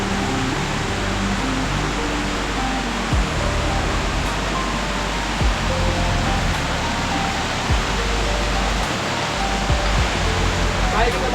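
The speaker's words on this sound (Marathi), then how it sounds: "हा बघा धबधबा आहे" A hidden waterfall near a village pours in a steady, dense roar that fills the whole scene at close range, broad and constant with small surges, while voices speak faintly underneath.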